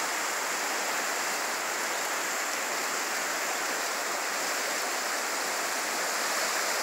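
River rapids rush in a steady, dense roar of flowing water, close and unbroken, with no voices or other sounds over it.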